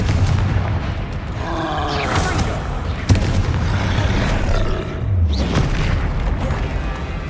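Confringo spell blasts in the Hogwarts Legacy video game, loud booming explosions in a steady barrage of heavy rumbling impacts with a sharp crack partway through.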